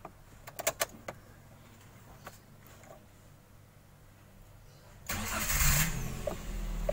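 A Daihatsu Luxio X automatic facelift starts with its door open: a few sharp clicks and clunks, a pause, then the engine cranks and catches into a loud, steady idle close by.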